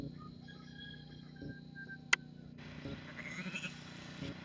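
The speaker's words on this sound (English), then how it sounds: "our sheep." Sheep bleat in a small farm pasture, a few fairly faint calls carried over a low steady outdoor hum, with no talk.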